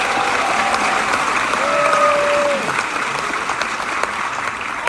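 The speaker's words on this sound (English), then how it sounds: "Also, a round of applause for our outstanding festival director, Mark Wins." Steady, dense applause from a large audience at a classic film festival, sustained clapping heard from within the crowd, with a voice briefly rising over it.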